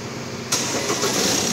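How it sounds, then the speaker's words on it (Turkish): A Ford Transit van with a loss-of-power fault cranks and starts, a sudden burst of engine noise after half a second of quiet hum, settling into a steady close idle. "Şimdi aracı çalıştıracağız."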